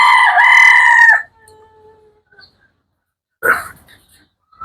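A native hill-breed rooster crows loudly and close by at a chicken farm, then quiet follows with soft faint clucks before a short burst of chicken calls near the end.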